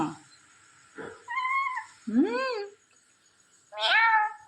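Three separate cat meows, close and fairly loud, with short pauses between them; a rising, drawn-out final call ends the sequence.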